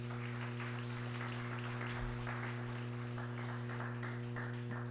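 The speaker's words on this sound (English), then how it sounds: "Let's give them a round of applause." An audience at a U.S. Senate candidate forum in Monroe applauds steadily for several seconds, a moderate, even wash of clapping over a constant low hum.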